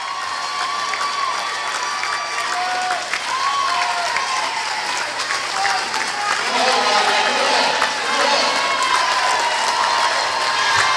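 A crowd at a veterans wheelchair games swimming event cheers and applauds a swimmer finishing her race, sustained clapping, whistles and shouts swelling louder toward the end, with voices calling out amid the noise.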